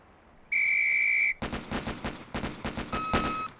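A loud whistle blows once, steady and piercing for nearly a second, at a police shooting drill, then a rapid string of close gunshots follows in paired bursts, echoing sharply.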